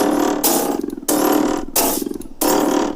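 A lightsaber sound font's full body sound, a dense buzzing, crackling drone that cuts out and restarts in four loud sustained bursts with steady pulsing texture, up close with no talking.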